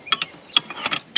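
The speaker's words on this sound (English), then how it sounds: "in order to get this one out, I'm going to have to use a wrench" A wrench turns on an engine sensor on a Fox Body engine during a sensor kit install. It gives a quick run of close metallic clicks and ratcheting ticks in an uneven rhythm.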